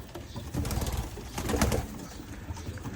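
Breeding pigeons, hens and cocks, coo in a loft, their soft throaty calls overlapping in steady rolling bursts at close range, with no talk over them.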